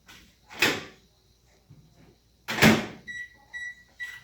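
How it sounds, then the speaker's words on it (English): Two thumping clunks of a microwave oven door shutting, then a few short electronic beeps from the microwave nearby. "we're going to throw that in the microwave for about 50 seconds"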